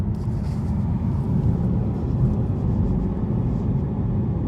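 A BMW i3 heard from inside while driving: a low, steady road rumble and cabin hum fills the whole stretch, with no voices.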